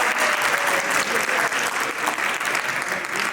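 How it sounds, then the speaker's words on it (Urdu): A large seminar audience bursts into loud, dense, sustained applause that fills the whole stretch without pause, with no voices over it. "Can I ask you کہ ذرا زوردار تالیاں سنائیں, زوردار."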